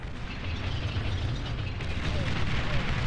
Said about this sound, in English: we missed a bombing run here against some of Red's energy.